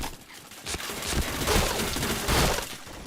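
Video game gunfire crackles in a dense, continuous burst of rapid shots, loud and harsh, with no voices over it.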